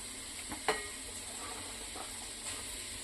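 Grated carrot and cabbage fry in oil with a soft steady sizzle, broken by a few faint spatula scrapes and a light clink.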